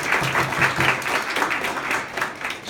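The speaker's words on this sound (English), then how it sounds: "Give her a round of applause for sure." A modest audience at a potluck talk applauds, uneven clapping with a loose pulsing rhythm that rises and dips for a few seconds at medium distance.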